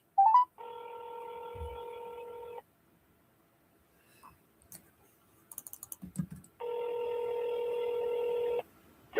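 Two long steady telephone tones sound close and clear, with short bursts of soft keypad clicks between them as a call is dialed.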